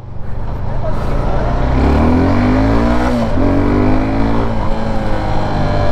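A Suzuki Gixxer 250 SF MotoGP Edition 2021 motorcycle with a 250cc engine, still in break-in, revs loudly and steadily up close, its pitch sweeping upward and settling, with wind noise throughout.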